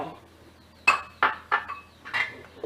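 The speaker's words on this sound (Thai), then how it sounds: "ต่อไปก็คั่วกระเทียม หอมแดง ตะไคร้" Metal utensil clinking against a pan while dry-roasting garlic, shallots and lemongrass over low heat, a few sharp scraping knocks spaced irregularly, fairly close, with a faint background hum between them.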